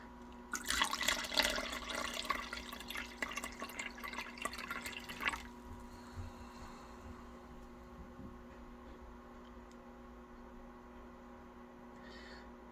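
Liquid from gold recovery of circuit boards is poured through a filter, giving a loud splashing trickle for several seconds that fades into quiet, sparse dripping under a steady background hum.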